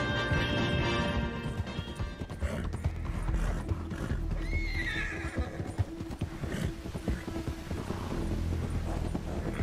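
Horses in the Wild RP roleplay video game gallop with rapid, continuous hoofbeats, loud and close, while a neigh rises clearly about halfway through over the thudding rhythm.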